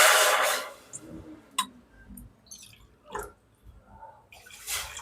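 Water being poured into a pan for rava kesari, a sweet made with roasted semolina, giving a broad splashing rush at the start followed by a few sharp clinks and light drips, fairly close and with no talk.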